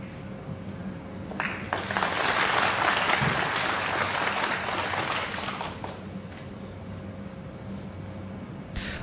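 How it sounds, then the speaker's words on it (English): Snooker crowd at the International Championship applauding a break-off shot, a steady mid-distance clapping swell that builds quickly, holds for several seconds and tapers off. "The audience applauding the break-off shot."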